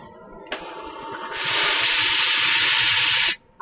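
A steam iron lets out a loud, steady hiss of steam in a single blast lasting about three seconds, starting with a sharp puff and then swelling, with no talking over it.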